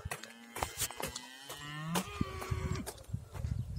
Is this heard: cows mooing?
yes